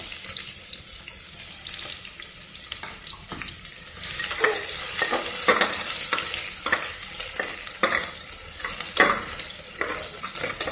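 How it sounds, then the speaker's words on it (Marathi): Onion frying in hot oil for a homemade mutton curry, a broad hiss with repeated scraping stirs in the pan that grow busier and louder in the second half, with no talking. "तेल गरम झाल्यानंतर आपण त्याच्यात कांदा टाकून द्यायचा, घालायचा"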